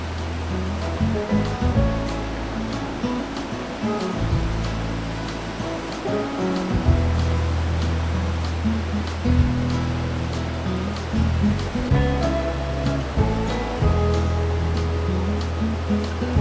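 Ocean waves break and wash steadily near a beachside campsite, a continuous near surf roar with broad rushing swells and no voices.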